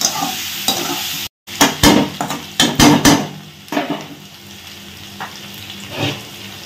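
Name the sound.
stirring potatoes and eggplant frying in pan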